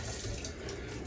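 Running tap water streams steadily over Fluval 207 aquarium filter parts and tubes being rinsed in a sink, a continuous close rushing splash with no talk.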